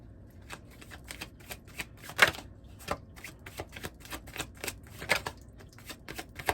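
Tarot cards are shuffled in a quick series of crisp riffling slaps and flicks, close and clear, with no voices.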